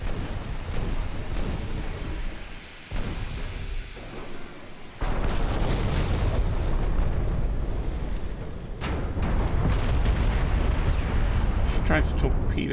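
Heavy, rumbling torpedo blasts and roaring explosions shake a US warship in a naval combat game, dense booming noise that swells and surges loudly throughout.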